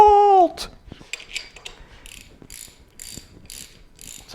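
Ratchet clicking in short repeated bursts while tightening cylinder head bolts on a 1997 Jeep TJ Wrangler 2.5-liter engine, close and crisp after a brief tonal sound at the start.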